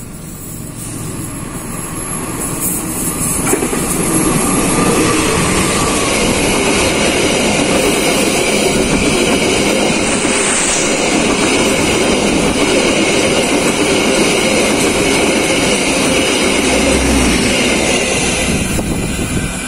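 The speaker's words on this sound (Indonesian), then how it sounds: "Silakan disimak bersama-sama kereta api Argo Wilis." The Argo Wilis express rushes past Indihiyang station in Indonesia, heard from a passing Serayu train as a loud, sustained roar of wheels and rail clatter that builds and holds throughout.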